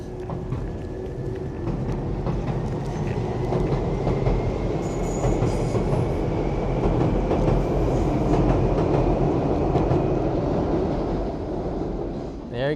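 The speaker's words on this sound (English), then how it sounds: "Another train going by." A train rolls past near a spot in Kawazu, Japan, with a steady loud rumble and rhythmic wheel clatter lasting throughout, rising slightly in the middle, with a faint tonal squeal above.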